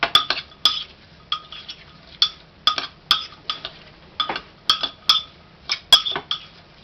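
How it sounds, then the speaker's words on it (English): A metal utensil scraping and stirring food in a pan while making chipotle chicken, a steady run of sharp clinks and scrapes in irregular bursts, close and fairly loud with no talk. "Scrape all those bits and pieces out, because we're going to want those, and just give that a good thorough mix."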